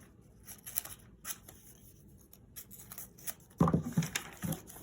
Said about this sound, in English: Let me grab my paper scissors.